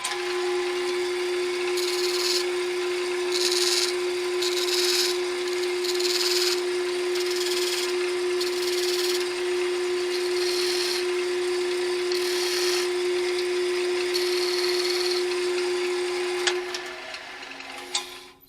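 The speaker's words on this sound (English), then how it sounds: "we're going to turn the lathe on and we're going to put these lines the whole way across" Wood lathe spinning a turned piece while spiral reference lines are marked across it, a steady motor hum with a strong drone tone, overlaid by repeated short scratchy rubbing bursts before the machine winds down at the end.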